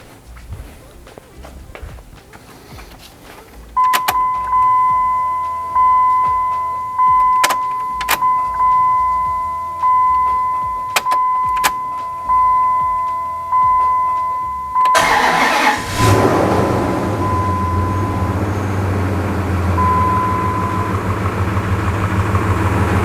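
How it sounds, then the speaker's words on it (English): A Hemi V8 engine cranks several times, each turnover rising in a rhythmic series against a steady high whine, then catches and settles into a loud, rumbling idle nearby. "Let's go ahead and fire this thing up, see what it does."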